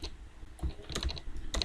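Someone types on a computer keyboard while entering heading text in a Jupyter Notebook, producing quiet, close, irregular key clicks in a short burst, with no talking.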